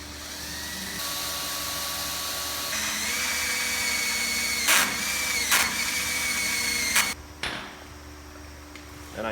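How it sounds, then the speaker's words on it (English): A power drill bores out rivets on a truck frame in a workshop, a loud sustained whine that shifts pitch as the bit bites, with a few sharp bursts and a drop near the end. "I think drilling's the easiest."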